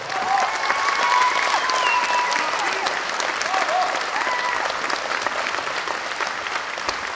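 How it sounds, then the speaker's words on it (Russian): A crowd claps continuously and warmly after a quadrille dance performance on stage, sustained applause filling the room with a few faint whistles or voices mixed in. "Кадриль, дорогие друзья, ваши аплодисменты."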